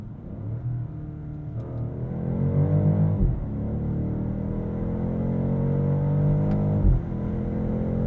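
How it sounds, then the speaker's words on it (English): 2023 BMW X7 M60i engine snarling under hard acceleration, a loud cabin-heard rising roar climbing through the gears, with two quick paddle-shift breaks before the pitch builds again. "a deeply satisfying snarl, paired with intense acceleration"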